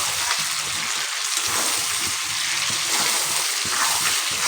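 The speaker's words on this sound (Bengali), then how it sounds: "অল্প সময়ের জন্য আমি এটাকে কষিয়ে নেব" Spice paste for Bengali mutton curry sautéing in a pan, a steady close hiss and sizzle with faint scraping stirs and no talk.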